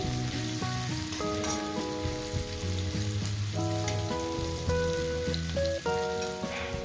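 Bitter gourd (karela) pieces fry in oil in a pan, a steady close sizzle running throughout under loud, sustained tonal background music.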